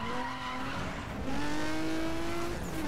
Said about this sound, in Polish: Ale kurde, jak ten samochód fajnie brzmi.